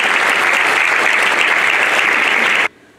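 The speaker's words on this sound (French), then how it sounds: "Et vous pouvez tous les applaudir." An audience at a town's New Year wishes ceremony applauds the municipal councillors, a dense, loud burst of clapping that holds steady for a few seconds and then stops abruptly.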